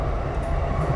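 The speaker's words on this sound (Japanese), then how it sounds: "この電車は各駅停車の新宿駅です" A Saikyo Line all-stations commuter train runs between Omiya and Yono-honmachi, giving a brief, steady, close rumble of wheels and carriage noise.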